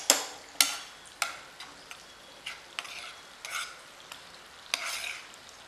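Chicken chili gravy in a Chinese-style recipe cooks in a pan, a soft sizzling bed broken by repeated sharp scraping strokes of a spoon stirring every half second or so, close and fairly quiet.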